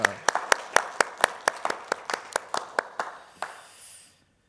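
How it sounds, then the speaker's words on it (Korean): A church congregation claps in thanks during an Easter Sunday service, about fifteen sharp, fairly sparse claps in a steady rhythm that thin out and stop, fairly close and with no talk over them. "우리 감사의 박수를 하도록 하겠습니다."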